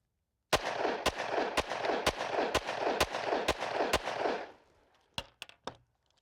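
Handgun fire with Liberty Civil Defense lightweight rounds: eight loud, evenly spaced shots echo outdoors, followed after a pause by three quicker, fainter reports.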